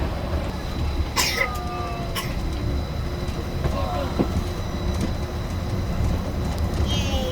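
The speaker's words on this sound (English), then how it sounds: "welcome aboard the Disneyland Monorail" Disneyland Monorail train riding along its beam, a steady close rumble and rolling drone throughout with occasional faint squeaks and brief clicks, and a voice speaking over the ride.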